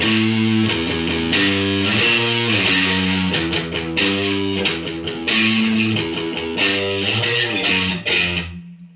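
Distorted electric guitar picks out a riff on a single string, loud and close, with clear sustained notes stepping through the pattern and a final note ringing out alone.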